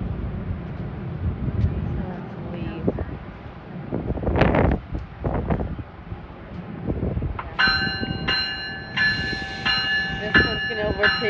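Amtrak Northeast Regional train passing at Princeton Junction in New Jersey, overtaking a New Jersey Transit local, a rumbling roar with wind buffeting and a sustained horn-like tonal sound near the end, while people talk over it.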